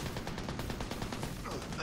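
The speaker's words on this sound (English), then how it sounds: "These freaking machine guns kicking my ass." Rapid machine gun fire in the video game Army of Two: The Devil's Cartel, a dense continuous rattle of shots that holds steady and loud for the whole moment with no pause.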